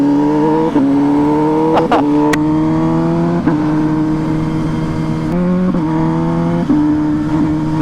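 A Suzuki SV1000 motorcycle engine revs hard up through the gears, each pitch climb broken by a quick crisp shift, loud and close with no voices.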